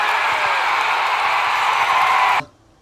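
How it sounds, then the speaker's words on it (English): A crowd cheering wildly: a loud, continuous roar of many voices held for over two seconds, then cut off abruptly into near silence. "crowd goes wild"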